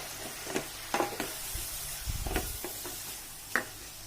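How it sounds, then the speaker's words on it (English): Diced, washed mushrooms, about 400 grams, tipped into a hot pan for mushroom masala, giving a low sizzle broken by several sharp scraping stirs and clatters, close and moderately loud, no voices. "So here now I add my mushrooms"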